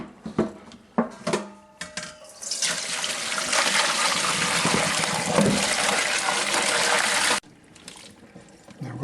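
Water drains and splashes steadily in a kitchen sink as pickling cucumbers for sweet pickles are emptied out. A few dish and utensil clatters come first, then a continuous rushing pour runs for about five seconds before it stops abruptly.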